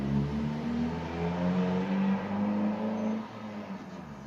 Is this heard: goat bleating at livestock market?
no